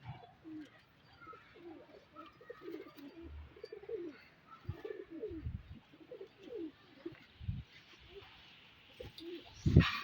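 Pigeons coo in a breeding loft holding many birds, a steady layering of low, soft throaty coos with occasional chirps, close and continuous, plus a sharper flutter or knock at the end.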